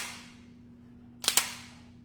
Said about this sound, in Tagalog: if you will rock the slide, mararamdaman na po talaga ninyo yung tunog pa lang, yung contact ng metal to metal.